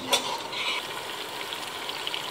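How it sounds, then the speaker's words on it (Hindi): Meat sizzles steadily in a pan as chicken pulao is cooked, a close, even frying hiss with a brief sharper spit near the start and no talking. "साथ में गोश्त को हम भून रहे हैं"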